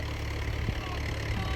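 Large tractor engine running steadily at a farm during maize season, a continuous low rumble with mid-range engine noise, fairly close and without speech over it.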